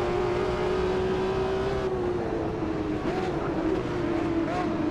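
A BMW M1 Procar racing at Silverstone in the Automobilista 2 sim: a steady, loud engine drone at high revs with a slight pitch sag and recovery, continuous throughout without speech.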